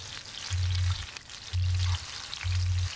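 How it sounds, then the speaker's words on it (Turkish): Eggplant slices fry in hot oil in a pan, a steady close crackling sizzle with three evenly spaced low hums pulsing underneath. "Hafiften patlıcan dilimlerine şöyle ayırarak patlıcanları kızartıyorum"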